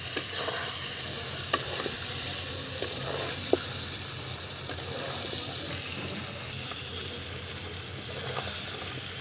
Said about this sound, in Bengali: আলুটা দিয়ে ভালো করে নেড়ে নিচ্ছি।